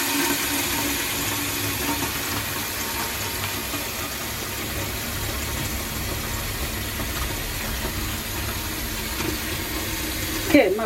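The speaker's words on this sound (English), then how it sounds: "So put the water in." Water pours steadily into a pot for soaking sticky rice, a continuous broadband rushing hiss that holds evenly for about eleven seconds.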